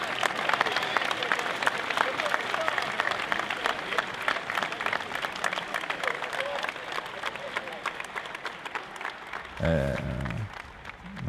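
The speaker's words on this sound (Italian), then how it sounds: "un grande applauso" Sustained crowd applause for Walter Bussolari at the Giardini Margherita tournament, dense steady clapping that runs throughout, with a brief voice rising near the end.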